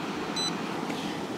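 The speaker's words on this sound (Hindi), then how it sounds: "अब फिर से बीप सुनिए" One short, high electronic beep sounds from a DC power supply unit, brief and clear above a steady background hiss, with no talk.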